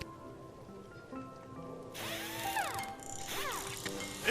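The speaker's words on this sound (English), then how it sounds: "Why do you need the drill?" A power drill whirs in the video game Lil' Guardsman, rising to a loud high whine with sweeping pitch changes after a quieter mechanical hum, with short pulses near the end.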